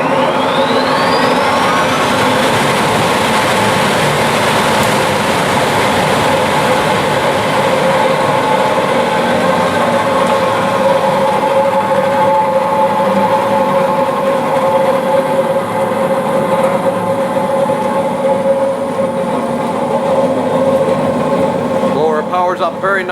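A New York Blower 18,000 CFM exhaust blower runs on power with a loud, steady roar and whine that holds unchanged throughout, sounding close and continuous with no talking.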